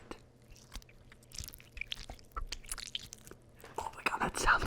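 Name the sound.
squeezing aloe vera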